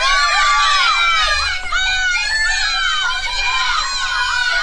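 A small group of about ten young kids shouts and cheers together, a loud, close burst of overlapping high-pitched yells and whoops that carries on energetically throughout.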